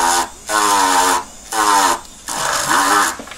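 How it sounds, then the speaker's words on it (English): A coarse whizzer wheel grinds the inside of a diamond ring being sized down, giving three close, high, whining bursts of the rotary tool separated by short pauses. "So I've got a coarse whizzer"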